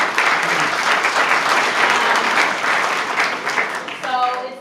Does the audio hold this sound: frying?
no